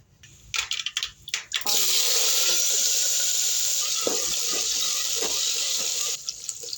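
Cumin and mustard seeds sizzle in hot oil in a heated pot, a loud steady hiss that rises abruptly after a few brief clatters and holds for several seconds before easing off.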